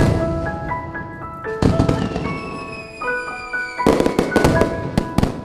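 Diwali firecrackers burst nearby in a string of sharp cracks and pops, mixed with shrill rising whistles from whistling crackers, ending in a rapid volley of loud bangs.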